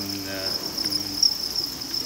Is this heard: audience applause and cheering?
no